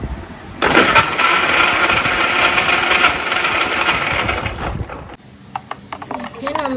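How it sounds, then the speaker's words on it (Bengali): A kitchen blender whirs loudly and steadily for about four seconds while blending sharbat made with ice cream, water and ice, then cuts off, leaving quieter clinks and handling sounds. "এখন এটা ব্লেন্ডার করব"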